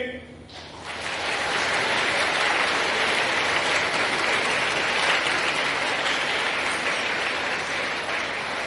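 A hall audience at a Catholic week talk breaks into applause for a priest stepping up to speak and sing, a dense, loud, sustained clapping that swells within the first second and holds steady to the end.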